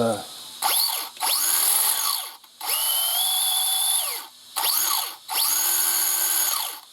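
A high-pitched cooling fan on a TT02-type RC car chassis spins up and winds down in several bursts, a steady whine with pauses between runs, close and fairly loud.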